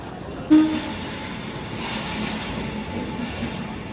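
Train at a railway station platform, a steady low rumble of rail traffic with a brief short tone near the start, continuous and moderately loud, no voices.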